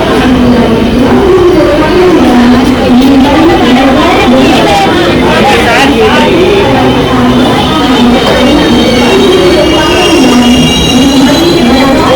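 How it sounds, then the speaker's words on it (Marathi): The Jan Shatabdi Express (12051), running Dadar to Ratnagiri, pulls out of Thane station with a loud, continuous rumble, while passengers chatter throughout. "ठाणे स्टेशन वरून पण दोन तीन मिनिटातच ट्रेन सुटलेली आहे"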